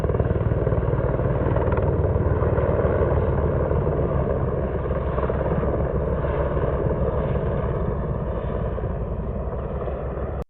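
A helicopter flies overhead near a forest cabin on Vancouver Island, a loud, steady engine and rotor roar that holds at close range for about ten seconds, no voices.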